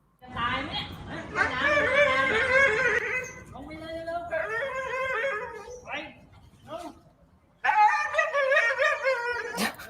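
A big dog afraid of the water whimpers and cries in drawn-out, wavering high whines, loud and close, coming in several long bursts separated by short pauses.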